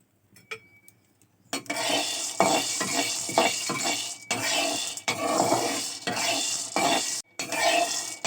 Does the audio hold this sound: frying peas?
yes